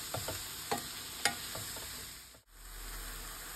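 Fresh herbs for fish ghelieh sauté in a pan, a steady quiet sizzle punctuated by a few light stirring scrapes early on, then fading to a soft hiss.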